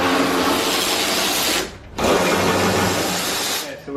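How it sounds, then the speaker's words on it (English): Bolts on the front bumper of a 2014-2019 Kia Soul are backed out with a power tool, which gives a loud continuous whirring buzz, cuts out briefly, then runs again before stopping. "So we will start by removing the bolts."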